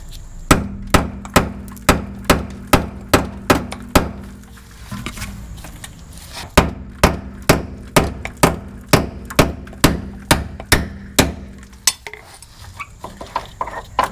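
A hammer strikes a stud to drive it out of a car subframe bushing: two bursts of sharp metallic blows at a steady, rapid rhythm, about a dozen each, separated by a short pause, loud and close.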